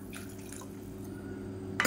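Water poured into a pan of foxtail millet for porridge, a soft liquid trickle over a steady background hum, ending with a brief louder splash.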